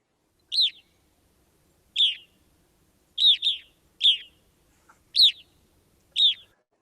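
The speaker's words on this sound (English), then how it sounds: "Evening grosbeak." An evening grosbeak gives seven sharp, clear pinging calls, mostly single with one quick pair, spaced over a near-silent background.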